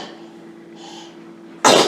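A single sharp, loud sneeze bursts out at the end after a quiet indoor stretch with low hum.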